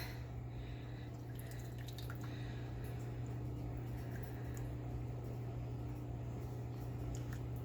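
Ingredients for homemade mac and cheese are poured into a pot, giving soft trickling and scattered patters under a steady low kitchen hum, close and fairly quiet, with no voices.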